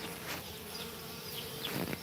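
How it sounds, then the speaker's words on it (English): Bees hum continuously around a beehive in a garden, a close, steady drone that rises and falls faintly as they fly past, with no voices. "Busy little bees buzzing all around."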